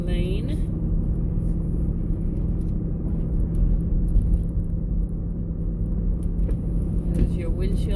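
Steady low road rumble and engine drone fill the cabin of a 2008 Ford Expedition cruising smoothly along the road, a constant near hum with no breaks.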